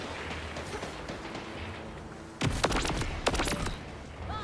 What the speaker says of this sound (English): Love the sniper rifle, son.